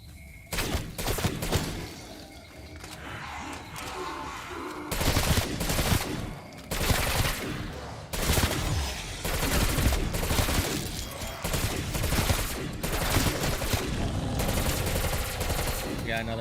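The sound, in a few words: gunfire shooting zombies in Call of Duty video game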